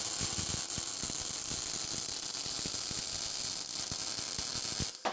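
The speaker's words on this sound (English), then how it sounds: "Let's give it a bit more voltage, and then maybe another half volt or so." A steel workbench is MIG welded, giving a continuous close crackling, sputtering buzz with rapid irregular pops that runs steadily for about five seconds and then cuts off, with no voices.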